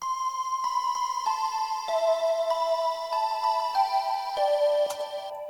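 Layered synthesizer melodies from a MIDI synth and a Korg Minilogue playing together, a steady pattern of bright plucked notes over sustained tones, moderately loud with no voices.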